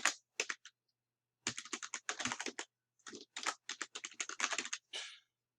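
A password being typed on a computer keyboard in short bursts of crisp keystrokes, close up, with clear gaps between groups of presses and no talking.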